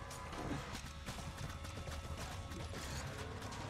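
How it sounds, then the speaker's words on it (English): Skeleton riders gallop on horseback through a swamp level of the video game Minecraft Dungeons. The clip-clop hoofbeats are faint and quick, set against a busy background of game sound. "We got skeletons on horses."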